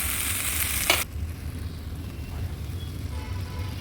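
Coconut-cashew paste with a little sugar being stirred and fried in oil for a vegetarian potato dum, a steady, close sizzle with a brief louder scrape near the start, alone without talk.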